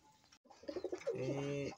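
A racing pigeon coos nearby, a short series of soft throaty pulses followed by a longer rolling coo, with little else around it.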